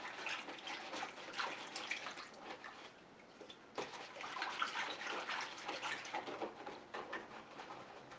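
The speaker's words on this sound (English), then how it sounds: "I'm just going to put this into water" A stencil plunged and swished in water, a steady run of splashing and trickling that dips briefly near the middle and then carries on, close by with no talking.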